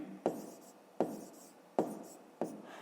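A pen writes numbers by hand on paper during a fifth-grade maths exercise, four sharp strokes or taps at roughly even intervals, each followed by a brief scratchy tail, close and clear with no talking.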